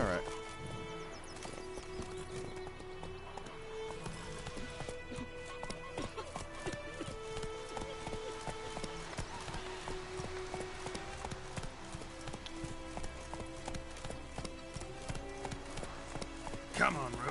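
Roach, a horse in The Witcher 3 video game, trots and gallops with steady clip-clop hooves and an occasional whinny, running continuously under game music and spoken dialogue.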